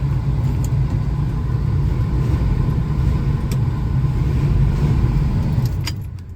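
A 1979 Chevrolet Camaro Berlinetta engine idles with a steady low rumble, close by, joined by light jingling near the end as it winds down.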